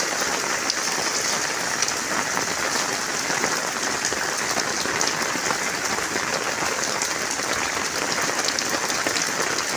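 Heavy rain pours down continuously, a thick, even roar of drops drumming on surfaces nearby for several seconds, with no talking.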